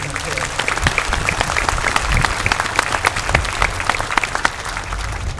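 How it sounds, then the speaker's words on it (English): Steady applause from a crowd at a veterans honor ceremony after a band performance, dense clapping continuing at an even level throughout. "Let's give them another round of applause."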